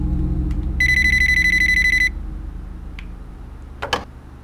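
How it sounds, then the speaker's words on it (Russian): An electronic alarm rings in the horror video game Urban Nightmare, a loud steady beeping tone lasting over a second, followed by a few scattered clatters and thumps over low background ambience. "Вот черт, сигнализация."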